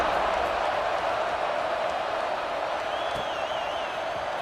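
Football stadium crowd at a night game cheering after the first offensive possession, a broad sustained roar from many distant voices that holds steady throughout, with a faint whistle-like tone near the end.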